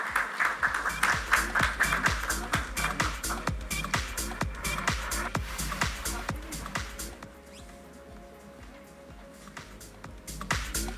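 Sparse, fairly quiet clapping from a keynote audience welcoming a company founder, individual claps distinct and rhythmic rather than a dense roar, thinning out toward the end.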